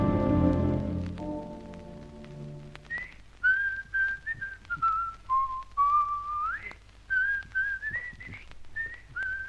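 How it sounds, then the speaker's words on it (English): Someone whistles a wavering melody, close and clear, after a fading low chord at the start. "I was whistling your theme song."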